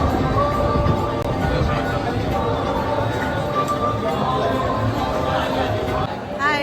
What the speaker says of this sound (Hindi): और ये इतना भीड़ है यहाँ पे